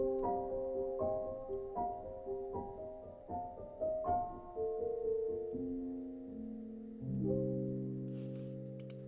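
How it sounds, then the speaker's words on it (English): A piano melody pitch-shifted down and then up two octaves, with a warbly, smeared, processed tone, notes sliding and ringing together with metallic artifacts, ending on a low sustained chord. "it's creating a lot of these very interesting artifacts that are happening due to pitch shifting one way and then the other"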